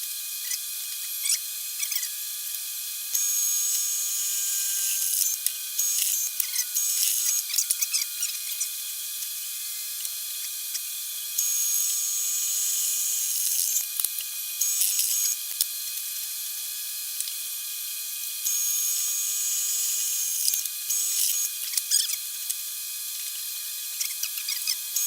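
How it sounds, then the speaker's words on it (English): A drill bores holes in a brake drum to change its bolt pattern, giving thin, grinding bursts that repeat between pauses over a steady mechanical whine, with no voices. "Drill that hole."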